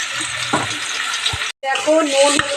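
Potato, onion and green chili sizzle in a wok (kadai) with a steady crackling hiss, cut briefly by a short gap midway, while a person talks nearby.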